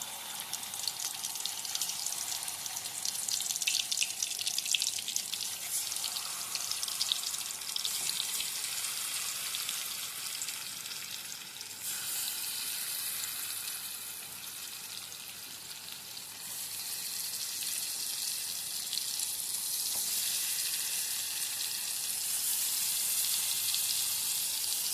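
Fish frying in hot oil in a pan, a steady hissing sizzle of moderate loudness that swells and eases slightly over a long stretch, with no talk.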